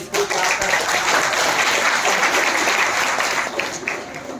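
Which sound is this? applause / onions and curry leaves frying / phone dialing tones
applause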